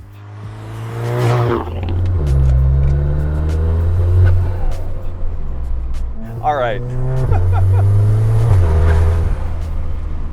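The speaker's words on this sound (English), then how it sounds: "Okay, the exhaust is ridiculous." A 2015 Audi A3 with an aftermarket exhaust rumbling and revving while driving, the loud engine and exhaust drone rising and falling under a voice talking.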